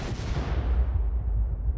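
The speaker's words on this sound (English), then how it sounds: "the bomb detonates" A bomb goes off inside a conference room: a deep, rumbling blast that roars loudly and then slowly fades, its higher crackle dying away first, with no voices.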